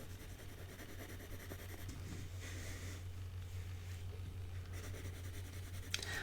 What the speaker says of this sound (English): I'm going to be using perhaps heavier applications of the pencil than what you normally would do